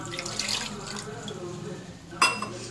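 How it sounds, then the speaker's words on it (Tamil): A tumbler of water is poured into a tamarind and turmeric mixture for pepper rasam in a home kitchen, giving a short, soft splash and trickle with a brighter burst near the end. "இப்போ ஒரு டம்ளர் தண்ணி சேர்த்துக்கிறேன்."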